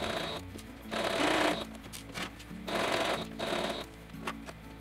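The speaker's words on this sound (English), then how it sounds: "Sew a 3/8 inch seam allowance along the top back edge." Sewing machine stitching a 3/8 inch seam along the top back edge of a baby romper, running in several short, fast whirring bursts separated by brief pauses, close and fairly quiet.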